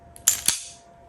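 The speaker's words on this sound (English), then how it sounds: "listen to this trigger" The trigger of a 2011 pistol is pulled, giving two crisp, close, metallic clicks in quick succession followed by a short fading ring.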